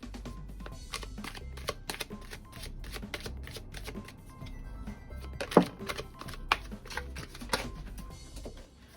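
Tarot cards shuffled by hand give a close, steady run of soft riffling clicks and flutters. A sharper slap near the middle is when two cards drop out.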